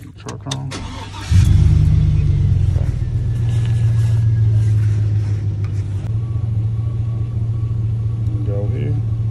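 A truck engine with a large evap leak fault starts up and settles into a loud, steady idle with a deep low rumble, a few clicks and knocks at the very start.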